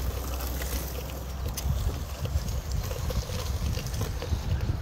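Strong wind buffeting the microphone while cycling an old road bike converted to gravel across an open field in light rain, a steady low rumbling roar with gusty swells throughout.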